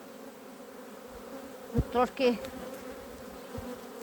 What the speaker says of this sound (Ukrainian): Дивіться, які бджоли, друзі